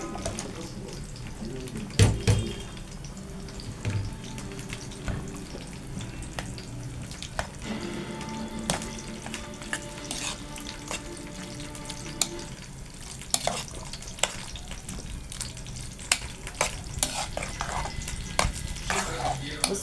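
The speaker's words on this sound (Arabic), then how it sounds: "نبدأ نحط المكرونة بتاعتنا" Partly boiled pasta sizzles and fries in a pan as it is stirred, giving a steady crackling hiss broken by scraping and clinking knocks throughout, heard up close.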